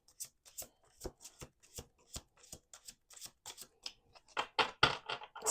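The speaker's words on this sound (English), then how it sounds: "Two more shuffles." A deck of cards is riffled and shuffled repeatedly up close, quick papery bursts in an irregular rhythm that grow louder toward the end.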